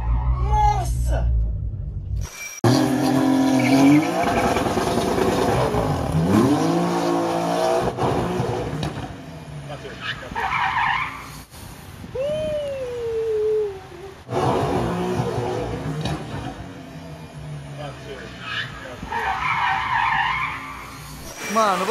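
A Porsche skids out of control with tires squealing in long wavering shrieks as the driver nearly hits a wall, engine roaring, while people shout and talk excitedly over it.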